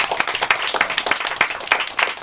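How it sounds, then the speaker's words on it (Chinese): Scattered hand claps from a small audience at an author talk send off an older man, uneven and fairly close, tapering in rhythm rather than building. "那我们就先拍拍手欢送欢送阿伯。"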